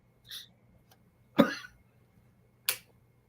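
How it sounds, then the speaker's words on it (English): A few short, sharp coughs, spaced apart, close and fairly quiet, with faint breathy sounds in between. "Oh, got a little cough."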